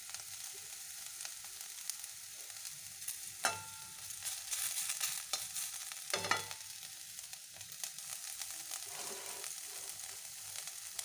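Grated ginger and green chili frying in a pan give a steady, moderate sizzle with occasional stirring scrapes and clacks throughout, and no voices.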